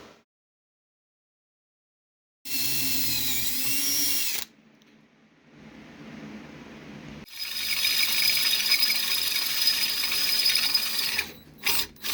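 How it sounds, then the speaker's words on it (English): Power drill boring holes for plug welds in a Polaris RZR UTV frame, with two loud, sustained whining bursts separated by a quieter stretch and a short pause at the end. "now we're stepping up to the last bit size for all my plug welds"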